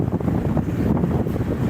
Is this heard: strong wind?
yes